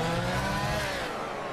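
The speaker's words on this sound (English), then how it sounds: "Yeah, this car sounds really nice." A car engine in the Gran Turismo 6 racing game hums and revs steadily with smooth harmonic tones, loud and close, with no talk over it.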